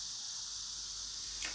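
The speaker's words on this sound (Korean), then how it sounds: "이 매미 소리가 너무 막 고주파가 시끄러운데" A steady, high-pitched insect drone fills the clip without a break, loud and constant, with no voices.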